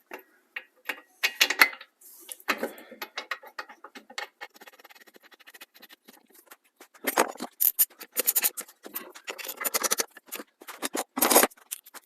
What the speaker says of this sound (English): We'll put these two 21mm bolts back in that secure the caliper bracket to the knuckle